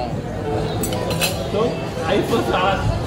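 Glasses clink in a toast at a dinner, with bright chimes of glass and cutlery ringing out over a busy room where people talk and chatter.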